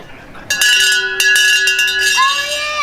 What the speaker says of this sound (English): Ring the bell first and then